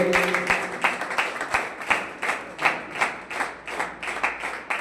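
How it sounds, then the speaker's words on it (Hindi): A seminar audience claps together to welcome a guest, the hands striking in a steady, evenly spaced rhythm of unison beats rather than scattered applause. "परमेश्वर जी भी आगे से वेलकम करेंगे और तालियां बजाएंगे आप मिलकर के"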